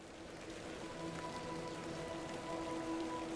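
Steady rain falling in a video game, a constant even hiss of drops on surfaces with faint tonal music lines underneath, no speech.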